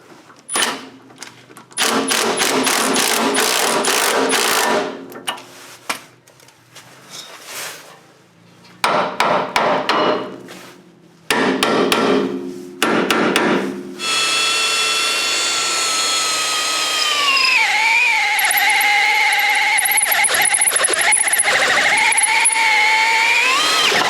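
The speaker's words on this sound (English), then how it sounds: "So to do that, I'm just going to be taking a Pitman arm puller, setting it over like this." Metal clanging and banging from a Pitman arm puller working a Pitman arm off a vehicle's steering linkage during a crossover steering install, loud bursts in several groups, followed by a long steady whining, droning tone.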